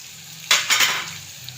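Spices such as chili, turmeric and coriander powder stirred and sautéed in a hot pan for a suran (elephant foot yam) dish: a couple of quick spoon scrapes with a brief sizzle, close and otherwise quiet.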